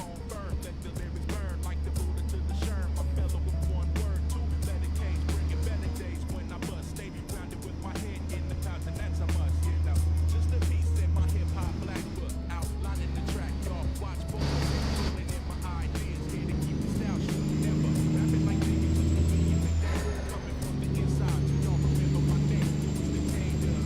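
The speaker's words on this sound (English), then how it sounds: "the turbo in this engine sounds fantastic" A heavy hauler truck's turbocharged diesel engine in American Truck Simulator drones steadily and loudly throughout, its low rumble shifting in pitch as it rises and falls, with a faint rising whine appearing near the end.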